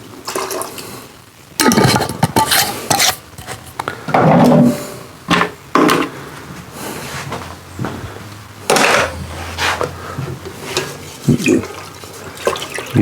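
Root beer moonshine mixture stirred in a pot, with wet sloshing and clanking of the spoon in bursts separated by pauses, close and fairly loud.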